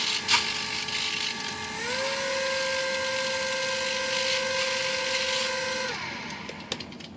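An Eflite Aero Commander UMX RC plane's electric motor whines steadily, rises in pitch as the throttle is nudged up, holds, then winds down to silence, close and clear with no talk.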